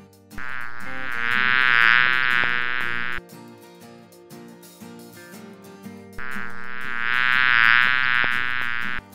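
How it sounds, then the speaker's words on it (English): Buzzing insect sound, a bee in a children's animal-sound guessing game, heard in two sustained droning bursts over light background music, with a quieter musical gap between them. "Bee."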